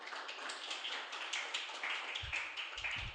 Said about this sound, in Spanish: Dense un aplauso porque están comprometidos.